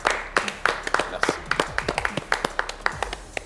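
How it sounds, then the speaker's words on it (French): A studio audience on a French-language talk show claps for the guest, irregular hand claps in a moderate close burst, with some vocal sounds mixed in. "je tenais véritablement à saluer, à vous rendre hommage à travers des applaudissements"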